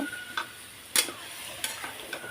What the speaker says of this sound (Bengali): এখন এর মধ্যে আমি ফুলকপিগুলো দিয়ে দেবো এখন একটু ভালো করে কষিয়ে নেব